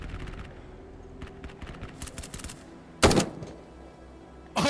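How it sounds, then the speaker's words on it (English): Gunfire in Ground Branch, a tactical shooter, with faint distant shots early on followed by two sharp, louder bursts of automatic fire, with no talking. "Someone is shooting right now. I hear him shooting."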